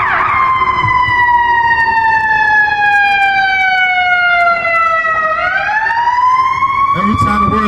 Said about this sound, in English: here come a police, here come a siren